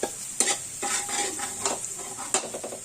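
Garlic frying in oil in a pan while being stirred with a utensil for vegetable fried rice, a constant close sizzle broken by several scraping, clinking stirs against the pan.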